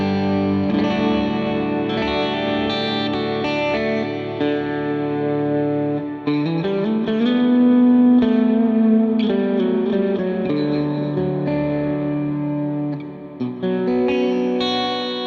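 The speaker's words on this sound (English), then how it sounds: "Let's do a hall reverb" Electric guitar played through a Line 6 POD Go with hall reverb, sustained chords and melodic notes ringing with a wide, washy tail and some distortion, loud and continuous with no voices.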